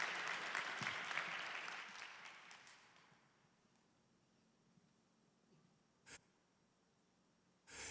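Concert audience applauding at a church-hosted happy concert, a dense burst of clapping that fades over about three seconds, leaving near silence with two brief sharp noises later.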